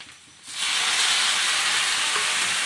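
Tomatoes and onions hit a hot pan and break into a loud, steady hiss and sizzle after a brief quiet start, frying close up while being stirred.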